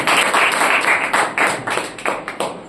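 An audience claps together at a church prayer meeting in Narsipatnam, with a loud, dense run of hand claps that turns into uneven separate bursts and fades toward the end.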